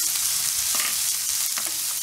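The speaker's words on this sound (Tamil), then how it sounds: "வெங்காயம் கொஞ்சம் வதங்கட்டும்." Onions sautéing with garlic in a pan for a vegetable masala give a steady, close sizzle with a few brief stirring scrapes, and nobody speaks.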